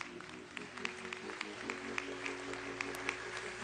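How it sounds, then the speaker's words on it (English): A crowd at George Floyd's memorial service applauds his family, with scattered distinct claps over a steady, sustained tonal backdrop. "please give his family another round of applause"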